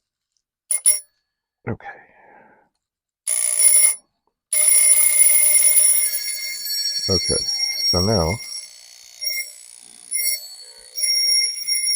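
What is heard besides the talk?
old telephone bell ringing during experiments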